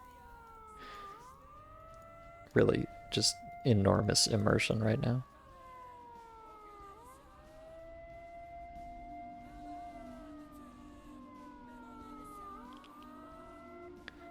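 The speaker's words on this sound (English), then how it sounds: "this piercing siren" A piercing, wailing siren in a survival video game rises and falls in repeated sweeping tones, steady and prominent throughout, with someone talking briefly over it near the start.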